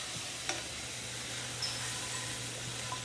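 Sherry poured into a hot pan over darkened, browned green bean casserole ingredients sizzles softly and steadily, deglazing the fond, with a few faint clinks of stirring and a low hum beneath; no one talks.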